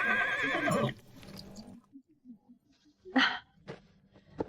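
A horse with a strong temper lets out a loud whinny at the start, followed by quieter snorts, breaths and a few scattered thuds nearby.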